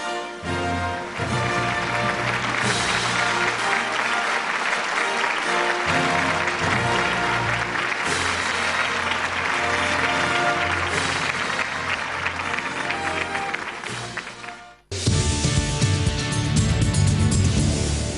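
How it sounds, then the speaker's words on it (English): Award ceremony audience applauding for an honoree, a dense, loud wash of clapping with steady tonal layers beneath, easing briefly toward the end then resuming just as strongly. "Big round of applause for Chitra Ramakrishnan"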